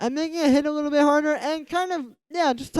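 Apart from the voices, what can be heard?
No distinct noise like a dog, phone or traffic.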